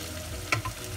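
Chili frying in oil for sambal terasi, a steady soft sizzle with a brief stirring scrape partway through, close and without talk.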